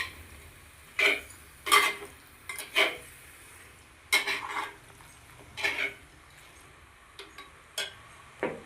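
Food being stirred and mixed in a pot, with a spoon knocking and scraping against the metal in irregular sharp clinks and taps spaced a second or so apart over quiet background hiss.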